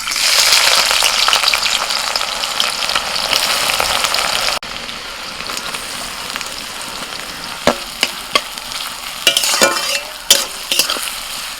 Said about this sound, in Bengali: বিরিয়ানিতে বেরেস্তা তো লাগবে তো বেরেস্তাটা এখন ভেজে নিই